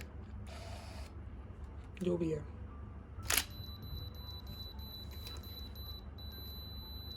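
A Nikon camera fires speedlights in high speed sync at a 1/8000 shutter speed, giving one sharp shutter click near the middle of the clip, followed by a faint sustained electronic tone, with brief talk just before.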